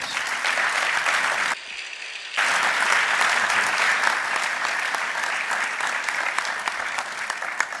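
Steady, loud applause from a lunch audience honoring the French president, continuous and dense apart from a brief dip in the middle, with no voices.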